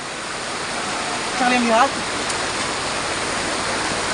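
A waterfall on the upper Cikalong river rushes in a steady, loud broadband roar throughout, with someone briefly speaking over it.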